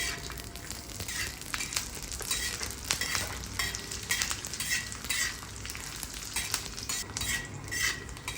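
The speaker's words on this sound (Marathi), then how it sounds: "आता आपण याच्यामध्ये तेल टाकूया आणि सर्व गरम मसाले, धने, खसखस, अद्रक, लसूण हे भाजून घेऊया" Whole spices, coriander seeds, poppy seeds, ginger and garlic roasting in hot oil in a pan for black spiced chicken masala, a steady close sizzle with frequent scraping and stirring clinks of a spoon, no talking.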